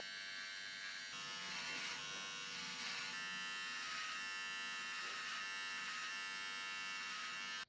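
Wahl electric beard trimmer buzzing steadily while trimming hair along the sideburns and upper cheek, its tone shifting slightly with each stroke against the skin.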